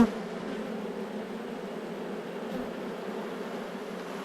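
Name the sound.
honey bees buzzing on hive frames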